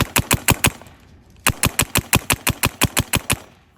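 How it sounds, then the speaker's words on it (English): Shocker Era mech-frame paintball marker firing two quick bursts of sharp, evenly spaced shots, about five then about eleven, loud and close with a short quiet gap between. "So we've got the Shocker Era here."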